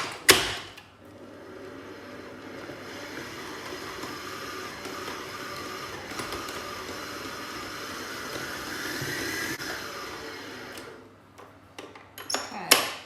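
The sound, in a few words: stand mixer with paddle attachment breaking up butter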